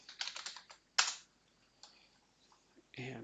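Typing a folder name on a computer keyboard in a quiet room: two short bursts of quick key clicks, then a sharper cluster near the end, with faint gaps of silence between them.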